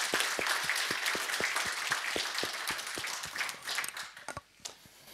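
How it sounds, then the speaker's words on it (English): Audience applause after an academic lecture on interpreting and visualising the past, a dense round of clapping that holds steady through most of the stretch, then thins and fades near the end. "I think we can give him one more round of applause."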